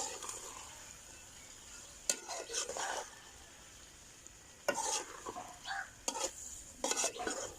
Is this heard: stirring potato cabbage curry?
yes